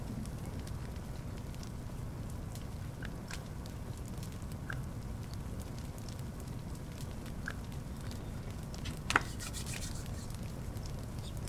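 A fire in the video game Little Inferno burns steadily with a low roar, scattered soft crackles and pops, and one sharper snap near the end; no one speaks.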